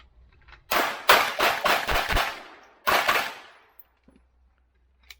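Rapid string of close, loud gunshots emptying a full magazine at a shooting range, a fast burst of about six shots followed after a short pause by one more, then quiet.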